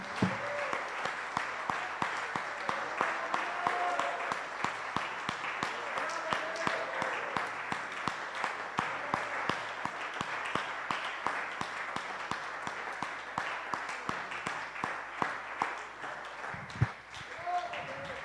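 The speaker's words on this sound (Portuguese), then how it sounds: "Agora você vai aplaudir o Senhor Jesus bem forte aí" A church congregation applauds during a service, a long, sustained round of brisk clapping at a moderate distance, with voices talking and calling out beneath it.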